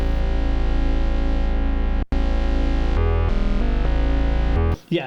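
A Korg Minilogue synth bass with added sub oscillator pushing it toward overdrive and resonant filter, holding a loud buzzing sustained tone, briefly cut off, then shifting through filter sweeps before stopping, with no voices.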